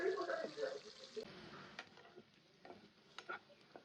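Chicken frying in hot oil while being stirred, a faint sizzle with scraping stirs that is busier at first and then thins, with quiet talk underneath.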